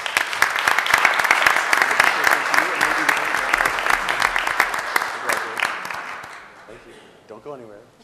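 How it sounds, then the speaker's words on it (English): At a city council meeting, a crowd claps enthusiastically in sustained applause, which gradually fades out, followed by a brief voice at the end. "Let's give them a round of applause"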